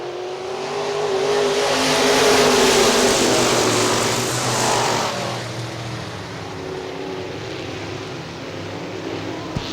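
IMCA modified race cars roar around the oval at Hartford Speedway Park in Michigan, a loud blended engine drone swelling as the pack passes close by, then easing to a steadier, more distant rumble.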